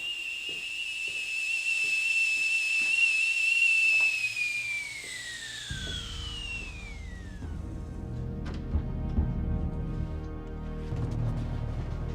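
A kettle whistle for tea shrills loudly and steadily for several seconds, then its pitch slides downward and fades as it dies away, followed by low rumbling background noise.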